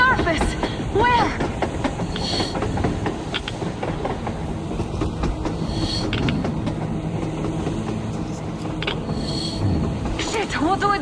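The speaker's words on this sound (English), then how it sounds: "A damn train on the surface!" Clattering rumble of a train rolling by on the surface in Metro Exodus, steady and fairly loud with rhythmic wheel clicks and occasional screeching, voices talking over it.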